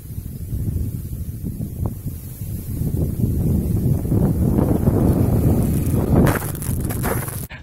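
Steady gusty wind roaring against the microphone on a large vegetable farm in Sabah, low and rumbling throughout, with a brief rustle near the end.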